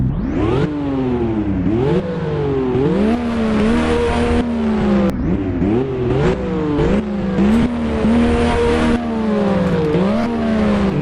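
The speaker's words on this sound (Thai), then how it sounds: "เสียงนุ่มๆนะ 2JZ นะครับเครื่องยนต์นุ่มสุดๆไปเลยนะฮะ" A Toyota Supra's twin-turbo 2JZ engine in a video game (Driving Empire) revving steadily, pitch rising and falling in repeated throttle blips, loud and close with a smooth continuous drone.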